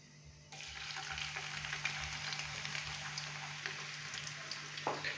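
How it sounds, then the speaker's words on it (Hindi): Two chopped onions fry in hot oil for beef karahi, a dense, even sizzle that swells in after a short pause and crackles steadily nearby, with no speech. "तो यहां पे हम प्याज को लाइट ब्राउन होने तक फ्राई करेंगे"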